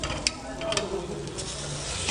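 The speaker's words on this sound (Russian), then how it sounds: "Сейчас мы все это дело с вами поджарим на сковородке." Sliced eggplant frying in a pan for a grilled vegetable dish, a steady sizzle with a couple of faint clinks as pieces are stirred.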